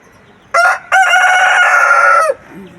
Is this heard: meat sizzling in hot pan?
no